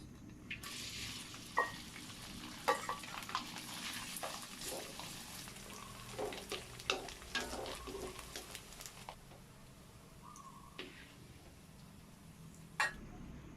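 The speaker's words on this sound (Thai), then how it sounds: "ทอดกุนเชียงก่อนนะคะ" Chinese sausage (kun chiang) fries quietly in a pan, a faint crackling sizzle broken by scattered clicks and spatula scrapes, with occasional soft talk.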